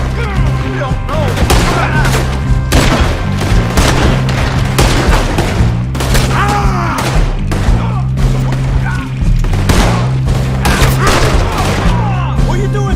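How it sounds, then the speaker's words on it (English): Gunfire in a Red Dead Redemption 2 video game shootout, loud rapid volleys of shots and booms that continue throughout, with shouting voices mixed in. "They're shooting right at you!"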